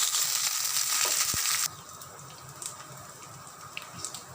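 Curry leaves fry on high flame in a pan, a loud hissing sizzle that drops abruptly to a softer crackle with scattered pops, close by.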